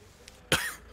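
Sharp bursts of coughing from a man, two harsh close coughs with a softer one before, short and abrupt.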